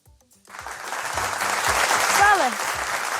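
Studio audience applause on a quiz show rises after a short pause into steady, fairly loud clapping from many hands, with a voice speaking briefly over it.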